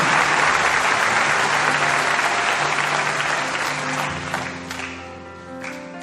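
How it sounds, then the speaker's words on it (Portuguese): Congregation applauding in a church service, a dense, loud wash of clapping that fades gradually toward the end as sustained voices or music tones emerge beneath it. "Aplauda este Deus"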